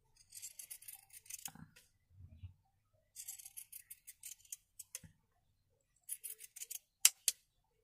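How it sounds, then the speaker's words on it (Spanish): Sharp scissors snip through red fabric in short bursts of crisp, close cuts, separated by brief pauses and a couple of soft handling thumps. "Por aquí sí puedo recortar por el derecho."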